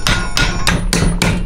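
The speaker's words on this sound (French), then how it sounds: "Mais c'est pas à moi ce marteau" A hammer striking metal while someone bends metal on an Audi repair, four or five sharp, evenly spaced ringing blows, close and loud, with no talking.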